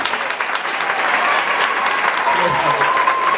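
An audience at a Gonaïves tribute event bursts into steady, dense applause that fills the whole moment with no pause.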